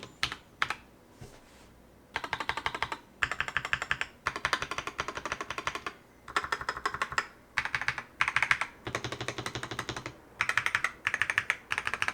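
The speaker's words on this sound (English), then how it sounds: "My board uses NuPhy's Rose Glacier tactile switches and sounds like this." Bursts of crisp, muted keystrokes from a NuPhy Halo96 mechanical keyboard with Rose Glacier tactile switches, typed in quick runs separated by short pauses, close and clear with no voices.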